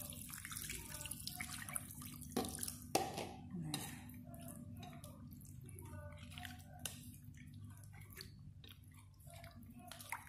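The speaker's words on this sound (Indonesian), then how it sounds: "Kemudian kita beri dia air sedikit." A small splash of water poured into a cooking pot while making Acehnese asam keueng with grouper fish, heard as soft trickling and light clinks of cookware in a quiet kitchen.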